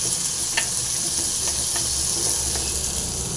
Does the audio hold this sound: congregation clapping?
no